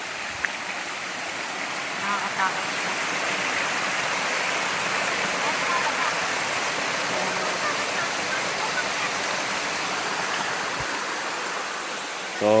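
A waterfall on Patnanungan Island pours in a steady, broad rush of falling water, close and unbroken, with a voice speaking faintly beneath the roar.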